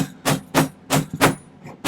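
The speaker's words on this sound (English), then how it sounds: "if you hit downwards with your hammer, you can stretch it out quite a ways" A hammer strikes fine silver bezel on a steel ring bender, four sharp ringing metallic blows in an even rhythm, loud and close, with no talking.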